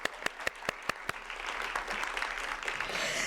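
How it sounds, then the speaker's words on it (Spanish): A few sharp, separate claps at first build into steady applause from a ceremony audience honoring a panelist, continuing to the end. "un aplauso también para Yasnaya, por favor."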